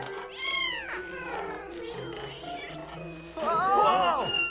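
A kitten in a barn meows several times in rising, wavering cries, close and clear, with a louder cluster of mews near the end, while people talk over it.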